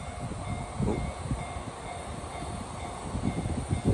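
A long freight train in Japan rolling past outdoors, a steady rumbling drone with rhythmic clacks of wheels over rail joints, moderately close and continuous without voices.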